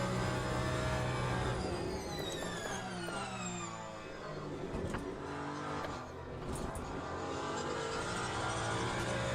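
Porsche and Ferrari race cars in the Le Mans Ultimate racing game, engines revving and shifting through gears with rising and falling tones, several cars layered together in a continuous loud roar.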